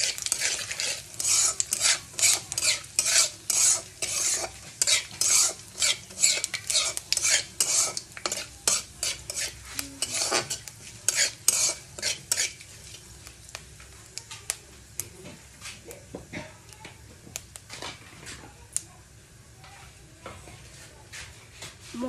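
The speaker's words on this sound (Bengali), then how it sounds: "তেজপাতা দিব, পাঁচফোড়ন দিব, ভালো মতন অল্প নেড়ে চেড়ে নেব।" Spoon scraping and stirring bay leaf and panch phoron whole spices in a hot pan, steady rhythmic scrapes with light sizzling, loud and busy for the first twelve seconds, then slower, sparser strokes.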